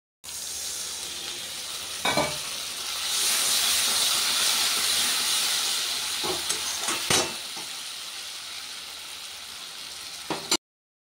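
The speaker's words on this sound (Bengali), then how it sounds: "এবার সামান্য একটু জল দেব, জল দিয়ে কষালে কিন্তু কষানোটা খুব ভালো হয়" Onion, ground spice and ginger-garlic paste frying in a pan with a splash of water, a loud steady sizzle and hiss with a few sharp stirring clatters, then the sound cuts off.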